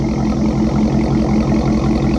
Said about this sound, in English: Here is just the idle rumble.